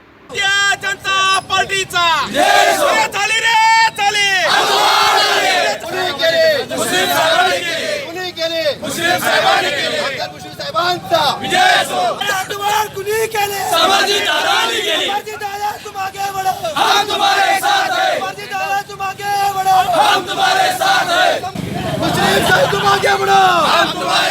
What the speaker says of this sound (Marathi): भाजप आणि राष्ट्रवादीच्या कार्यकर्त्यांनी जोरदार घोषणाबाजी करून जल्लोष साजरा केला